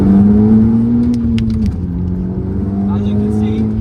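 A stage 3 tuned Audi S3 8P, about 420 bhp, pulls hard in second gear, its engine droning loud and steady from inside the cabin with a brief dip in pitch midway as it keeps accelerating.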